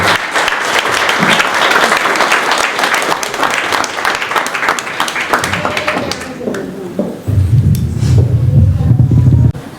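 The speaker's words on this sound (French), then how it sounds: "je vous demande d'applaudir s'il vous plaît" Audience applause at a staff New Year ceremony in Baillif, a loud, dense round of clapping that thins out toward the end, where a low rumbling noise and voices take over.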